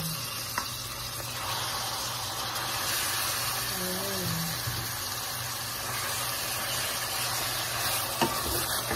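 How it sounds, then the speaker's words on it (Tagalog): Minced beef qeema, browned lightly, sizzles steadily in a pan as it is mixed, with a constant soft hiss and only occasional faint stirring touches, moderately quiet and without speech. "I-mix na po natin yung beef or ang kima."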